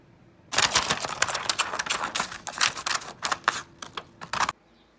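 Quick, crisp scissor snips through paper during a children's art lesson, a rapid run of sharp clicks lasting several seconds, close and fairly loud, then stopping abruptly.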